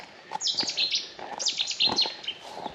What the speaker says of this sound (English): What's that bird?